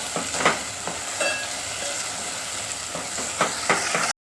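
Masala for a spicy Bangda (mackerel) fish curry fries in oil, giving a steady dense sizzle with soft crackling pops scattered throughout, close and continuous until it cuts off abruptly.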